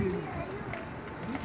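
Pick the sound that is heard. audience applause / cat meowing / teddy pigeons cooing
teddy pigeons cooing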